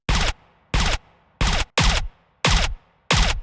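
Six sharp, loud bursts of the Nemesis gun's muzzle sound from Apex Legends, dry and unprocessed, fired in a steady spaced rhythm with short silent gaps between shots.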